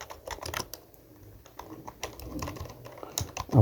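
Someone types on a computer keyboard nearby, a quiet run of irregular clicking keystrokes with brief pauses and no talking.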